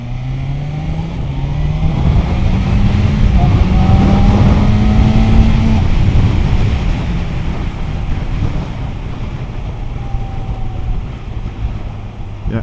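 BMW M1000XR superbike with full-header exhaust ridden on the road, engine note rising in pitch as it accelerates hard, loud under steady wind rush, then easing to a steadier drone.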